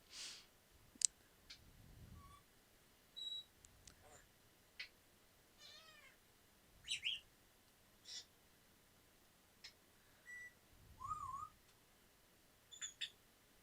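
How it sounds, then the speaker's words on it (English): A pet bird indoors chirps and chatters in scattered short bursts of whistles, clicks and trills, close but fairly quiet against a hushed room, with pauses between calls. "my bird is being chatty this morning"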